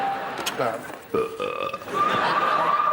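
A loud, drawn-out burp sounds in a comedy sketch about an absurd game show called Number Wang, rising to a strong, sustained croak near the end of the moment.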